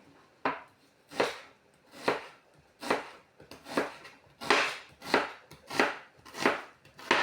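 A knife chops onion into half rings on a board for a pickled-onion salad, about a dozen crisp, steady strokes close up with no talking.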